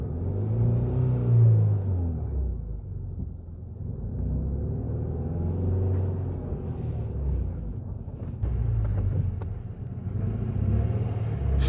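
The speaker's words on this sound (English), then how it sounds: "give it loads of revs and try and force it backwards" Ford Mondeo Mk3 engine revs hard while straining to break a frozen handbrake free on gravel, a low droning rumble that rises and falls in long surges over about twelve seconds, close, with a few faint knocks and no talking.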